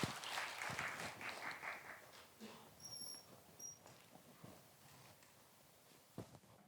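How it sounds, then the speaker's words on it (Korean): An audience claps at a Korea National Open University 2023 admissions seminar: faint, distant applause that swells briefly at the start and then thins out, with only scattered claps remaining. "큰 박수 부탁드립니다."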